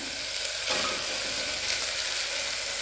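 Chopped vegetables, tomatoes, beans, carrot and potato, sauté in a hot pan for chapathi kurma, a continuous close sizzle with faint stirring scrapes and no talking.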